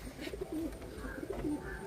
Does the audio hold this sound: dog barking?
no